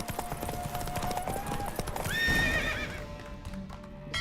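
Horse hooves clip-clopping at a gallop during a race in The Witcher 3, with a neigh rising midway over the steady rush of the run and game music holding underneath.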